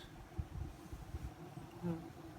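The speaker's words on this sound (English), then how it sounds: "If you get 5 bumblebees coming back to your hive per minute" Bumblebees fly around their hive outdoors in a soft, continuous buzz that rises and falls as individual bees pass close by.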